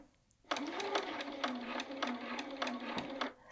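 A sewing machine stitches a welt pocket in a steady, close, rapid run that starts abruptly, pauses briefly near the end and then resumes.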